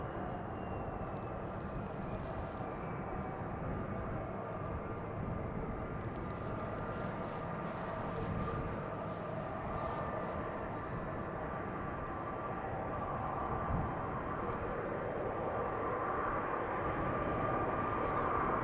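A Delta Airbus A330 taxis at Amsterdam Schiphol Airport, giving a steady, broad jet engine rumble with a faint high whine that holds evenly at moderate distance throughout, with no talk.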